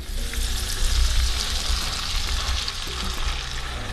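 One pound of ground beef browns in oil in a pan, giving a steady, close, dense sizzle with light crackling throughout and no talking.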